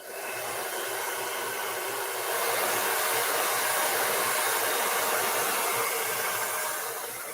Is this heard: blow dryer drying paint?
yes